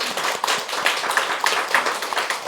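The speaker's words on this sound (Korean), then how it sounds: "우리 환영의 박수 드리겠습니다." Congregation clapping during a Sunday church service to welcome newly registered members; a moderate, fairly quiet patter of hands from a modest group, steady throughout with scattered individual claps standing out.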